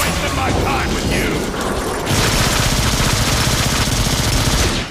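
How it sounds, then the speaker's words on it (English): Rapid mechanical bursts of subsonic repeater gunfire in the Transformers: Fall of Cybertron video game, chattering continuously with clanking metallic ratchet-like textures and heavy low thumps, loud and close. "I don't know why I'm using the subsonic repeater at this range"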